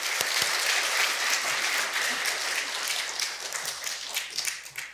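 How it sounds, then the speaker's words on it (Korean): A church congregation applauds their pastor during a Sunday evening service, dense steady clapping filling the room for the full stretch and thinning slightly toward the end. "우리 목사님께 감사의 박수를 다시 한번 감사합니다"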